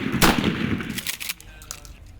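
Shotgun blasts fired by Recon Marines on a range: a loud close report near the start followed by further sharp bangs and clatter, with commands shouted between shots.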